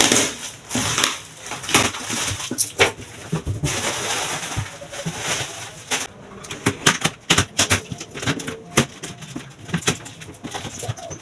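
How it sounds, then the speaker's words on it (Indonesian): Rustling and crinkling of thin plastic wrapping and cardboard box handled during the unboxing of an EDON 18-1851 7-inch circular saw, a close series of irregular crackles, taps and scrapes. "Ini packagingnya cuma lapisan plastik satu, nggak ada bevel luarnya. Kemudian di dalamnya juga ada kardusnya ya."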